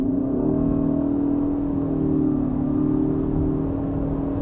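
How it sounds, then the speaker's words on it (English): A Ford Kuga plug-in hybrid SUV accelerates from 40 to 100 in combined mode, its engine humming in a smooth continuous drone holding at a fairly loud, even level throughout. "now we accelerate from 40 to 100"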